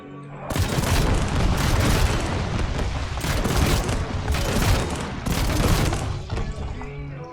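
Rapid bursts of gunfire from a compact Armadillo hideaway gun hammer out in several long volleys, loud and booming, with short pauses between strings of shots.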